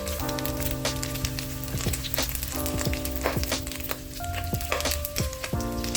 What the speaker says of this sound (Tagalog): Okay, so lagay na natin yung bawang.